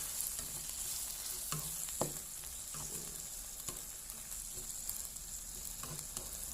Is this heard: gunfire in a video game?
no